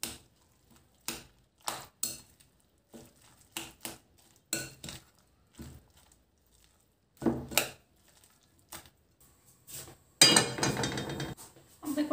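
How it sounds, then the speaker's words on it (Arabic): Two eggs being stirred in a bowl, the utensil making a run of close, light clinks in short rhythmic bursts with pauses, ending in a busier, louder scraping flurry. "وغنضيف هنايا جوج ديال البيضات، نحاول انا نحركهم مزيان"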